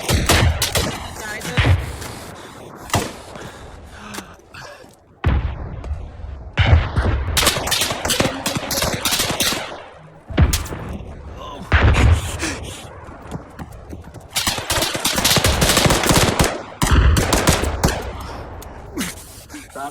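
Gunfire in the military video game ArmA III comes in loud bursts and scattered single shots with brief lulls between volleys. Voices talk intermittently in the background.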